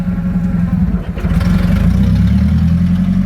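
A Komatsu FG25 forklift with a Nissan propane engine drives forward in first gear, giving a loud, close, steady low engine drone that swells slightly as it moves off.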